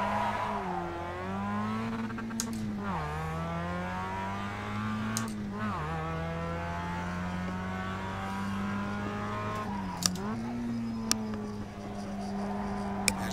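Mazda MX-5 engine in the iRacing sim at Summit Point, revving steadily with rising and falling pitch through gear changes, a few sharp clicks along the way, loud and continuous with no talk.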